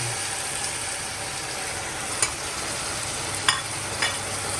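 Seared meat and its juices tipped into a pan of caramelized onions, giving a steady close sizzle with a few sharp clinks of a utensil against the pan.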